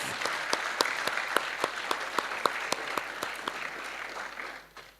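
An audience at a presentation event claps in a moderate round of applause, with distinct individual claps standing out from the steady patter before it fades away at the end.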